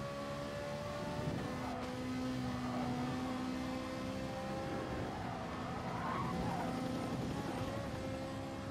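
Ferrari race cars in the racing game GT Sport roar through a steady, continuous engine drone with shifting revving tones, loud and unbroken, with no talking.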